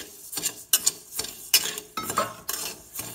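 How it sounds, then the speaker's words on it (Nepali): Raw rice dry-roasting in a pan for baby porridge, with rhythmic scraping and rattling strokes of a spoon against the metal, close and repeated roughly every half second, with no talk. "सुरुमा चाहिँ चामल भुट्ने"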